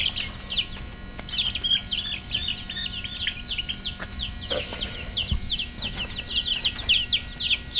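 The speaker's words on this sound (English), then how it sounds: "That's the baby chickens." Baby chickens peep in a rapid, high-pitched chorus of overlapping chirps that runs on continuously, close by, over a low background hum.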